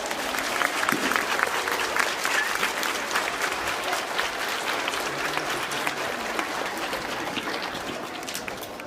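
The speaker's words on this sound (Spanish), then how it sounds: "Un aplauso, por favor" A school audience of children and adults breaks into sustained applause after a timeline presentation, dense loud clapping filling the room evenly from start to finish.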